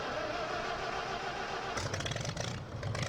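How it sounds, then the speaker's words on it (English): A vintage John Deere tractor engine in Farming Simulator 15 cranks and catches, the steady engine hum giving way to a rougher, louder chugging as it fires up. "I'm going to fire this one up first."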